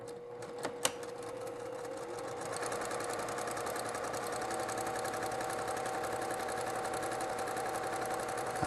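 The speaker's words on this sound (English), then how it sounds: "we're going to the machine, right sides together, sewing on the interface side on the straight line" A sewing machine runs steadily at medium pace, stitching quilt pieces right sides together along a straight line for a Mariners Compass quilt, with a couple of small clicks at the start.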